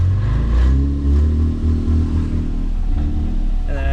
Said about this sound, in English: Gotta give it a lot of RPM so that it actually wants to not stall out.